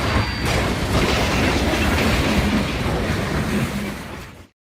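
Passenger train running at speed over an old trestle bridge on former Southern Pacific track at night, a loud, steady roar of wheels and rail noise with rhythmic clatter throughout, close by, cutting off abruptly near the end.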